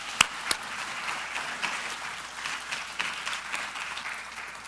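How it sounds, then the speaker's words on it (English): A summit audience applauds the panel with a steady, moderate wash of clapping. It opens with two sharp, close claps and then continues evenly with no talking. "So I want to give another round of applause to that panel."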